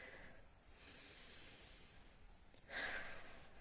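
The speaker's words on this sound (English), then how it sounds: "Take a nice deep breath with me." A single slow, deep breath drawn in softly at close range, with a faint inhale and a brief louder exhale or sigh near the end, in a quiet room with no talking.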